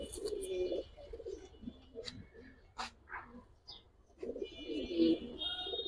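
Giribaz and colouring pigeons cooing in soft, low, repeated bursts at close range, with a pause mid-clip before the cooing resumes; chirps and other faint background noise are scattered throughout.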